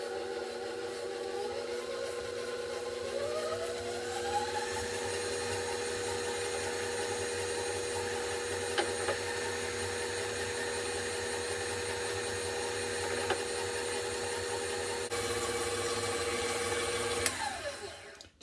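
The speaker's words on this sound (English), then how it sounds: "I'm just going to put my whisk on here, and I'm just going to get this started up, raise this up, and then just start mixing." Electric stand mixer with a whisk attachment whipping homemade brown sugar, a steady motor whir that rises in pitch as it speeds up, then holds a continuous drone with a few faint clicks before stopping at the end.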